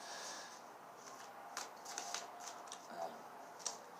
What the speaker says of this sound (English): I'm just going to shuffle twice because this is getting ridiculous on the cards here